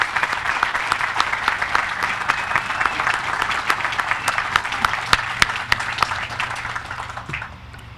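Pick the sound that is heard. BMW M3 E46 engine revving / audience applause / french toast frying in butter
audience applause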